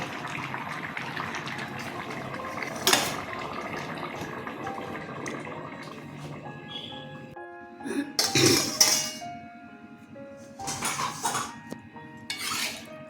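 A metal lid goes onto a cooking pot of prawn curry with pumpkin stems and vegetables, giving a few close clanks and scrapes against a quiet kitchen background, the loudest clatter coming near the end.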